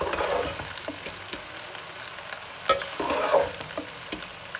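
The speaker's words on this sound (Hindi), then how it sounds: "ये दो से तीन मिनट हो गए हैं इसको भूनते हुए, मैक्रोनी का भी" Macaroni and rice being fried together in a pan, with a soft sizzle under frequent scraping and tapping of a spoon as the mix is stirred, close and moderately loud with no talking.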